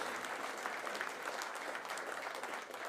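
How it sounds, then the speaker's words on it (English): Crowd at a get-out-the-vote campaign rally applauding for Elizabeth and Speaker Burrows, a steady, fairly distant wash of clapping heard alone, fairly quiet throughout. "Big round of applause for Elizabeth and Speaker Burrows"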